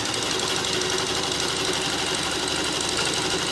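A sewing machine runs steadily while stitching a straight line across a practice sheet, giving a continuous, even mechanical whir with a fine rapid rattle and no pauses.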